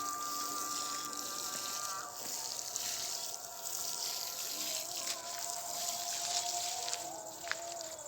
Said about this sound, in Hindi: जितना आप इसको पानी दे सकते हैं उतना पानी इसको देना है